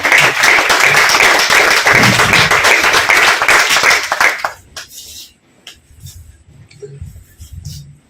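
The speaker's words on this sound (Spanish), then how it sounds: "un aplauso a Carlos Malamud y Héctor Casamora" Audience applause welcoming two speakers at a talk, loud dense clapping for about four and a half seconds that stops abruptly, followed by quiet room noise and a few soft murmurs.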